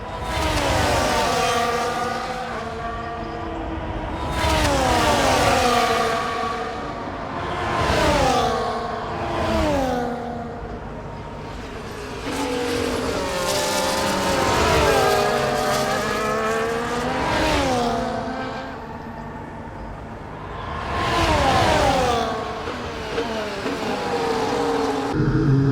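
F1 race car engine in the F1 24 game at the Japanese Grand Prix, short shifting. High revs climb and drop repeatedly in a steady cycle, loud and continuous throughout.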